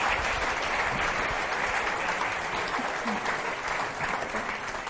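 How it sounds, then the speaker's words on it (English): Sustained, dense applause from a forum audience thanking a panel of speakers, steady and even throughout, a continuous wash of many hands clapping at moderate distance. "please join me in saying thank you and giving a big round of applause to"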